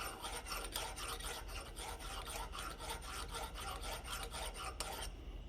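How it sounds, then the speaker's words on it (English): A skew chisel is honed on a small diamond stone in a steady rasping scrape, with quick repeated strokes running back and forth for several seconds before stopping abruptly. "It's just hitting it with that little diamond stone every few minutes."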